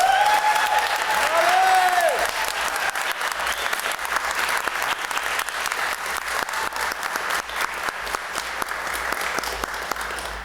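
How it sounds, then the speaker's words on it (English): An audience at a graduation ceremony for a civic leadership academy gives its group leader a warm round of applause, dense and sustained clapping throughout, with a few cheers at the start. "Now we need to give our brave leader, Molly, a huge round of applause"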